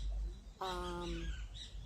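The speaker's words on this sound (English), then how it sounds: "Now the birds are chirping." Birds in an outdoor setting give a single clear, harmonic squawking call that rises out of a quiet background partway through, then fades back to soft ambience.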